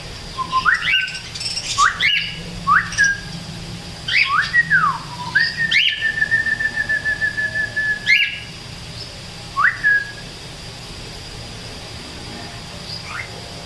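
A cockatiel whistles in short rising and falling notes, some repeated, with one longer held whistle, separated by brief pauses; close and clear, no speech.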